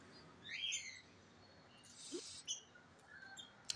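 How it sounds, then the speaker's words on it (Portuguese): A guerreiro songbird sings in short bright bursts, a quick whistled phrase followed by a few sharp chirps and calls, close and fairly clear over a faint background hiss. "Você escuta bem esse tal de guerreiro cantando."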